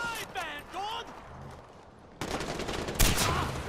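Rapid gunfire rattles in Far Cry 4, loud dense bursts that intensify in the second half, overlapping with someone talking early on.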